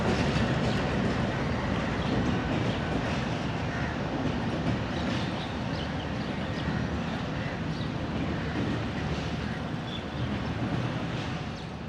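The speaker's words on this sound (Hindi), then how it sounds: "अमेरिकन जनरल इलेक्ट्रिक लोकोमोटिव है ये, 2000 हॉर्स पावर का" American General Electric 2000 hp diesel locomotive hauling a train, a steady loud rumble of engine and rolling stock throughout, with faint clatter layered on the continuous drone.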